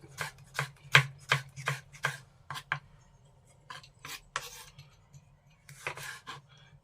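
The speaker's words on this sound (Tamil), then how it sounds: "தக்காளி முடிஞ்ச அளவுக்கு நைஸாக வெட்டிக்கங்க." A knife chopping tomatoes finely on a cutting board for a biryani, a quick run of close, crisp thuds that pauses, then resumes in scattered strokes over a low steady background hum.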